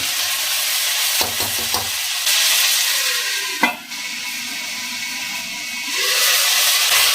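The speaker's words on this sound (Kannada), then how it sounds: "ಆಲೂಗಡ್ಡೆ ಮತ್ತೆ ಅವರೆಕಾಳನ್ನ ಸ್ವಲ್ಪ ಒಗ್ಗರಣೆ ಜೊತೆನಲ್ಲಿ ಒಂದು 2 ನಿಮಿಷ ಫ್ರೈ ಮಾಡ್ಕೊಳ್ಳೋಣ." Potatoes and field beans (avarekalu) fry in a pan with tempering, a steady close sizzle broken by a few stirring scrapes, the hiss dipping briefly midway before swelling again.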